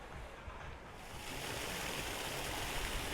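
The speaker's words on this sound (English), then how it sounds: "There's this beautiful waterfall, and there's an orchid house here." A waterfall in the gardens of Hotel Fariones in Puerto del Carmen on a hot day gives a steady, close rushing of water that grows louder and fuller after about a second, with no talking.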